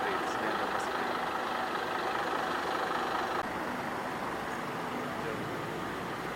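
A free bus idling near an LRT station, its low steady engine rumble mixed with surrounding roadway noise, moderately close, with faint voices underneath.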